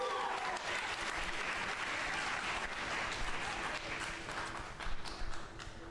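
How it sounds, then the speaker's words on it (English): An audience at a high school poetry slam applauds, a sustained wash of many hands clapping at moderate distance, with scattered voices mixed in and a few louder claps near the end. "give yourselves a big round of applause"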